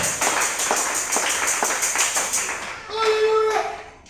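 Applause at a church campaign opening-day gathering: a crowd claps in dense, steady rhythm for a few seconds, fading out under a raised voice and a held musical tone near the end.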